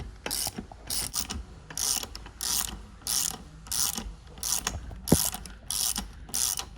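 A ratchet with a 17 mm socket loosens the wheel axle nut on a Honda motorcycle, giving close, loud bursts of rapid clicking in a steady back-and-forth rhythm of about nine strokes, with no talking.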